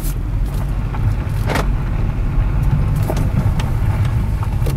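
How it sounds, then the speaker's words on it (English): A 2004 Mercedes-Benz Kompressor with an automatic transmission drives along a road, its steady engine and road rumble heard from inside the cabin, with faint brief clicks and thumps over the continuous low drone. "let me take you guys on a little test drive, show you how the car drives."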